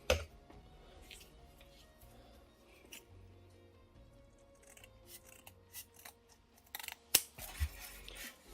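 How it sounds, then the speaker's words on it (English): Scissors cut a sheet of nickel foam to size for a homemade battery electrode. Faint, scattered snips and rustles sit over a low hum, ending in a sharper, louder cut near the end. "And I will cut this foam in this size"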